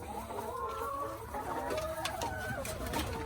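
Hens on a rural Thai farm cluck in overlapping bursts in the morning, close and fairly quiet, with a continuous outdoor hum underneath.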